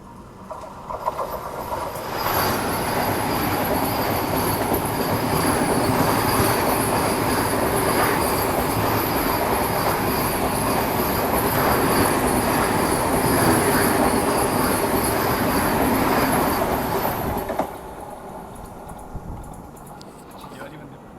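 A Vande Bharat express train rushes past a Duronto express on the New Delhi–Jammu route, a loud sustained roar of wheels and rail noise with a high squealing tone lasting about fifteen seconds before dropping away abruptly to quieter train interior rumble.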